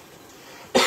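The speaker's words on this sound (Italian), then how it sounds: "c'è un po' di tosse" A single sudden cough bursts out near the end after quiet room tone in an Italian kitchen while fish soup is being made.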